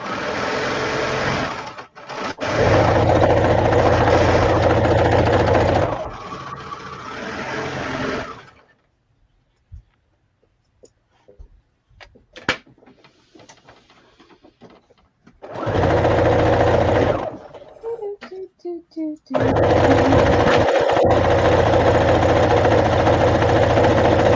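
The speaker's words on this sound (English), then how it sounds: "The bad thing about surging on this serger is that going faster makes it slide around the table more." A serger overlock sewing machine stitches fabric for a dress bodice, running in loud, steady bursts separated by quiet pauses with faint handling clicks.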